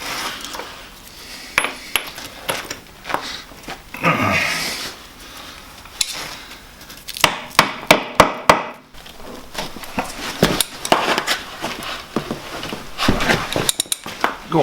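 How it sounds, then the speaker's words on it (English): Metal-on-metal hammer blows striking badly corroded wheel nuts on a vintage Ferguson tractor axle, irregular clanging knocks in bursts, loud and close, with people talking in between. "these wheel nuts are pretty badly corroded, as you can see, so we're probably going to use a bit of hammering"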